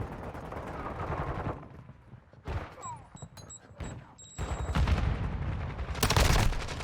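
Gunfire in a first-person shooter multiplayer match, loud bursts of automatic rifle shots and single shots in irregular clusters across the clip, with game effects and faint background chatter mixed in.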